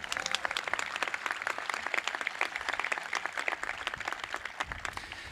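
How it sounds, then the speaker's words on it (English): Crowd applause at a 2020 high school commencement ceremony, a dense, steady wash of many hands clapping throughout, moderately loud with faint voices mixed in. "that deserves a little bit of applause"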